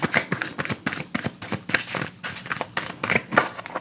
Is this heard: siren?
no